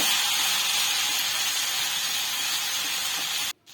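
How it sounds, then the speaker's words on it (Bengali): Vegetable spring roll filling sizzling in a frying pan as it is stirred, a steady bright hiss running throughout and cutting off abruptly near the end. "নাড়াচাড়া করে নেব।"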